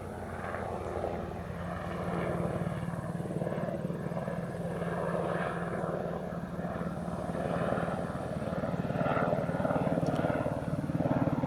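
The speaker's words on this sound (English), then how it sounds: "But I can say it's a helicopter, and you know it's a helicopter." A helicopter flies nearby, its rotor chopping in a steady pulsing drone that grows slightly louder over about eleven seconds, with no one talking.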